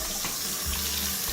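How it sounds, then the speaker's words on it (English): Water runs steadily from a bathroom faucet in a house under repair, a close, continuous hiss and splash with no voices. "Okay, we got water now."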